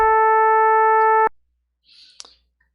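A clean, steady Sega Genesis FM synth tone sounds for just over a second and stops abruptly, followed by a faint rustle and a tiny click.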